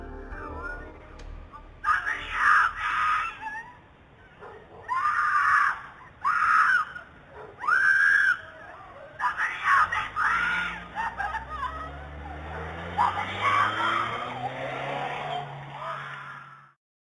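A woman screams violently in disturbing footage, with a run of loud, strained bursts separated by short gaps, followed by a longer continuous wail toward the end.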